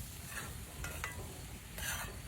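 Faint, steady frying sizzle of food cooking in a pot over a campfire outdoors, with a few brief stirring scrapes.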